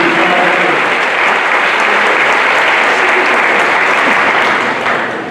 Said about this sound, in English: So let's give applause to your family, friends, for helping you, the teachers.